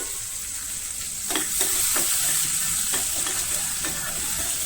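Vadagam tempering spluttering in hot oil, a continuous hiss with a series of sharp crackles and pops scattered through the middle and end, close and fairly loud.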